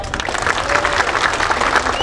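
A speech audience breaks into sustained applause, dense clapping from many hands filling the room steadily for the whole stretch, with faint crowd murmur underneath.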